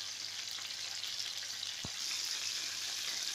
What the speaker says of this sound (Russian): Обжариваем до румяной корочки, затем переворачиваем на другую сторону.